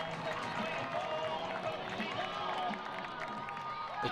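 Crowd at a women's college lacrosse game in Blacksburg, Virginia Tech hosting Duke, cheering and roaring steadily after a tying goal, a dense continuous wash of voices at even loudness throughout.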